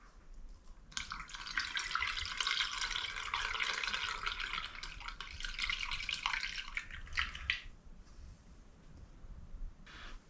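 Elderberry syrup poured through a funnel into a pint jar, a steady liquid trickle running for about seven seconds and then tapering off with a few drips, close and moderately loud with no talking.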